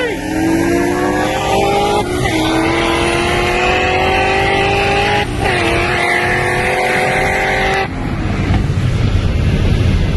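A Toyota Supra and a Corvette ZR1 race side by side in second gear, engines roaring loud and continuous with rising pitch through the pulls, with brief dips at the shifts and heavy wind buffeting the microphone.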